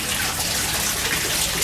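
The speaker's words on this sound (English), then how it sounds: "so it is then draining into the pool" Water drains from a saturated aquaponics grow bed into a fish pool, a loud, continuous rushing splash heard up close.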